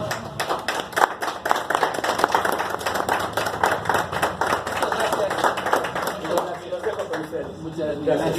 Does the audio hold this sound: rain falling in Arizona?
no